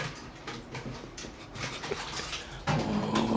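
A man imitates a dog at home to frighten a pet cat, giving a string of short barking, panting vocal bursts at close range, growing louder toward the end.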